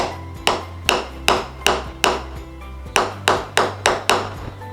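A hammer strikes a steel mould to drive it into the end of a Kelantan serunai tube, giving about a dozen sharp, close, ringing metallic blows in an even rhythm that pauses once partway through.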